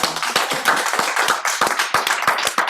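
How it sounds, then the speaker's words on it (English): Rhythmic, fairly sparse applause from a small gathering, with distinct individual hand claps at close range, steady for a few seconds. "So I want everyone to give a round of applause to them"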